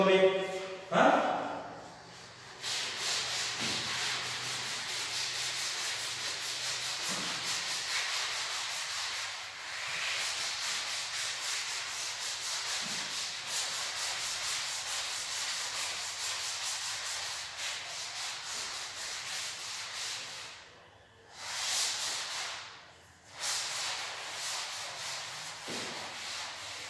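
Steady scrubbing as writing is erased from a classroom board, a long continuous rub lasting most of the time with a couple of short pauses, close and fairly loud.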